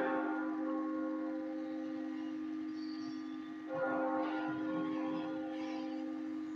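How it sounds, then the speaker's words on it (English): Church bells ring with a sustained, resonant tone, heard from a moderate distance with a steady hum and a few fainter strikes layered on top, at St. George's Anglican Cathedral, St. Vincent. "The sounds of the bells."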